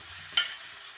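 Tomatoes dropped into a pan of frying chicken for tomato chicken karahi give a single sharp hissing burst that fades quickly into a low, steady sizzle, heard close and alone.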